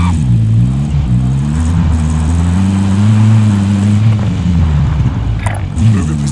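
A car engine drones steadily while driving in Call of Duty Modern Warfare, its low, stacked harmonics rising and dipping with throttle changes, loud and close throughout.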